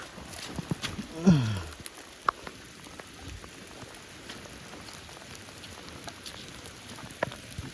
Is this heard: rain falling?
yes